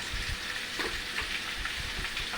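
Papaya curry with turmeric, salt, sugar and chili powder frying in a pan. A soft, continuous sizzle is heard alone, with faint stirring and low bumps underneath.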